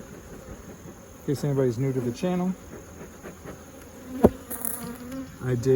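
Honeybees buzzing steadily around an open single brood chamber hive during a September inspection, a constant hum beneath someone talking close by.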